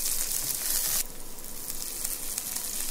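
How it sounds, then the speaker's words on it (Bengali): Vegetable noodles with spinach, cauliflower, carrot and coriander leaves fry in a pan while they are stirred. A loud bright sizzle hisses up close, then drops to a softer, steady crackle after a second. "একটু ভেজে নিই ভালোভাবে। ভালো করে নাড়াচাড়া করতে হবে,"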